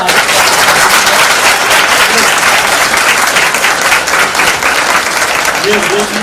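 A loud, sustained round of applause from an audience, dense clapping filling the space with a few voices mixed underneath.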